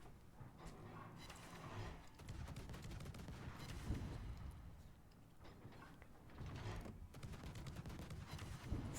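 Naval gunfire in the World of Warships game aimed at the battleship Bourgogne: a rolling barrage of muffled booms and crackling salvos, continuous and fairly distant, surging and easing in waves.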